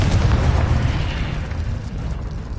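A Confringo fire spell bursts in the Hogwarts Legacy video game, a loud, dense blast whose rumbling roar holds steady before thinning out over a few seconds.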